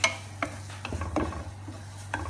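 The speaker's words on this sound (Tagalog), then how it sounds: "Now we mix together with the garlic, the onion." Beef stirred in a pan with garlic and onion, a few scraping spoon strokes over a low steady sizzle, close up with no voices.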